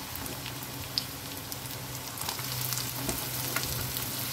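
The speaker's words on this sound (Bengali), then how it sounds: "এবার আমি আস্তে আস্তে লাউগুলো দিয়ে দিচ্ছি এর উপরে।" Bottle gourd pieces going into a pan of frying onions, a constant soft sizzle with a few light clicks and a thicker bubbling hiss building in the second half.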